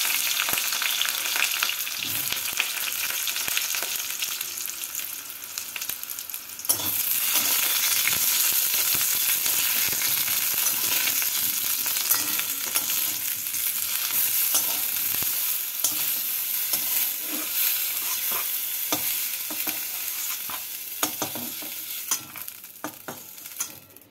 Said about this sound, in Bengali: বেগুনগুলোকে আগে ভেজে নিচ্ছি